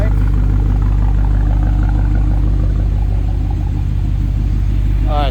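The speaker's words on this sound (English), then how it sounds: "And that's what the exhaust sounds like." A 2013 Alpina B7 sits idling, its exhaust giving a steady, close low rumble with an even pulsing throb and no voices over it.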